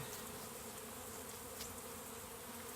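A swarm of honeybees is being hived, heard as a faint but steady, dense buzzing hum from many bees with no voices over it.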